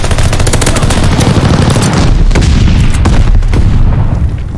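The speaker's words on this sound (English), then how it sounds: "hostiles are strafing us!" Dense, continuous automatic gunfire and booming bursts from strafing in a Call of Duty Vanguard Hardpoint match, loud and sustained throughout with no voices.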